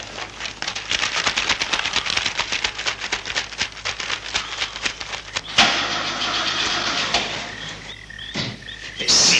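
An old car engine from a 1974 film cranks over and over in a fast, loud rhythmic churn without catching. After a brief pause it tries again, and the clip closes on a rising whine.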